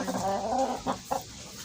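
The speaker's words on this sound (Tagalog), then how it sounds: "Tapos si Manok." A chicken clucks a few short, throaty notes close by, with a brief busy background and no talking.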